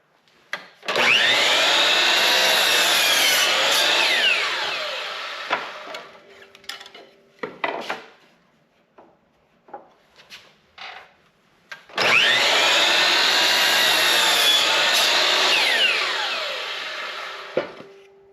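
Power saw recutting a length of craftsman wood molding for tiny house trim, two long loud cuts each lasting several seconds, separated by quieter knocks and handling sounds.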